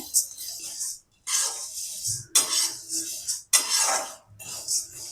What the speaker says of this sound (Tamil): உளுத்தம் பருப்பும் போட்டுடணும் ரெண்டும் ஒரு பொன்னிறமாக வறுக்கணும்